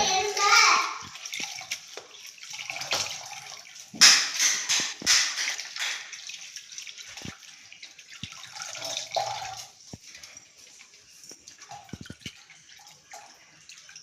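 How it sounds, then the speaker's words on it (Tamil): Mudakathan keerai leaves are washed by hand in water, with splashing, swishing and dripping in irregular bursts, close and moderately loud, alongside faint voices including a child. "தண்ணி ஊற்றி 2-3 வாட்டி நல்லா கழுவி எடுத்துக்குங்க கீரையை"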